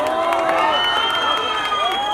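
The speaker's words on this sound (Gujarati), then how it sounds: "એટલે તમારા માટે એકવાર પ્લીઝ તાળીઓ પાડી દો." A crowd applauds and cheers at a Kathiyawadi thali restaurant inauguration, with dense continuous clapping mixed with shouts and voices throughout.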